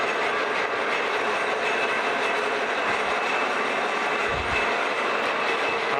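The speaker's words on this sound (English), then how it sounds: "So let's fire the machine up, and once again we'll take her for a ride. All right, let's let her ride up." Horizontal boring mill traveling up its column, a steady mechanical whir with ratcheting gear texture and a couple of low thumps, moderately loud and continuous without talk.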